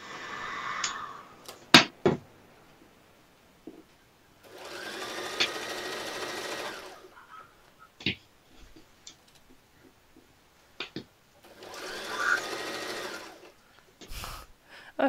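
A sewing machine stitching in two sustained runs of rapid mechanical ticking, each lasting a couple of seconds, separated by quiet pauses with scattered clicks and handling knocks.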